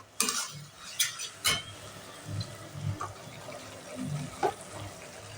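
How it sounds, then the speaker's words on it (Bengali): Ginger, tomato paste and spices frying on low heat in a pan while a utensil stirs them: soft sizzling under several distinct scrapes and clinks against the pan, close up. "সিমে করে একটু ভাজা ভাজা করব।"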